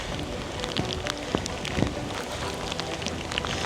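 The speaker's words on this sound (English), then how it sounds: "Just started pouring down raining." Heavy rain pours in a dense hiss by a raging spillway, with a few sharper knocks and splashes standing out; no one speaks.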